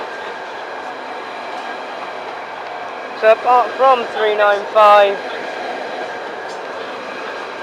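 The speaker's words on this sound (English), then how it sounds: "Trains Out here at London St Pancras on High Speed 1 and the Midland Main Line" At London St Pancras International, a train on High Speed 1 or the Midland Main Line hums steadily, with a short burst of rising tonal notes midway and someone speaking briefly.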